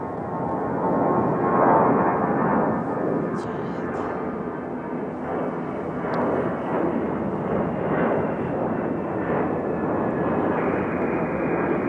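An airplane takes off at Raleigh-Durham International Airport, a loud, sustained broadband jet roar that swells and holds steady throughout, with a voice speaking over it.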